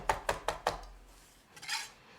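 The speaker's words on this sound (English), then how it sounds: "I'm really roughly chopping this, not finely chopping it." Knife roughly chopping fresh herbs on a cutting board, four sharp evenly spaced chops up close, then a softer brief scrape near the end, with no talking.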